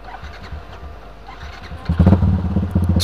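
Yamaha Byson motorcycle engine idling, then revving hard about two seconds in, with loud repeated throttle bursts and a rough mid-range roar close by.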